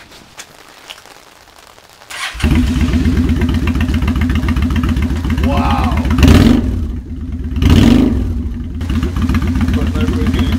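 A motorcycle engine with Vance & Hines Straight Shots exhaust and baffles installed starts up and runs with a deep throbbing idle, then two sharp revs blip higher; someone briefly exclaims.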